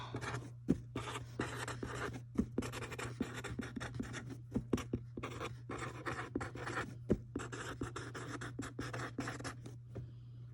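Pencil writing on paper, a steady close-up scratching with rapid strokes and short pauses between words, accompanied by a constant low electrical hum and no speech.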